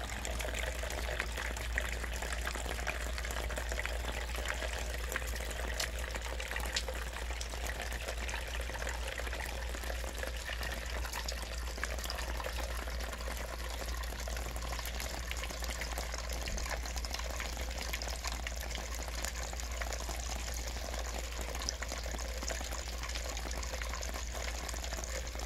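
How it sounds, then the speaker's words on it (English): Steady splashing and trickling water from a fountain runs continuously during a hailstorm, with no voices. "Water fountain."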